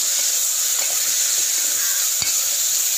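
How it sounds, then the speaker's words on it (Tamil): Onions and tomatoes sautéing in a pan for a mushroom masala gravy, giving a steady, even sizzle with soft stirring scrapes and one sharper knock near the end, with no voices. "சேர்த்துட்டு நல்லா வதக்கி விடுங்க."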